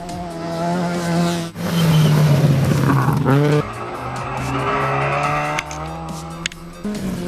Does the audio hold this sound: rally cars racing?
yes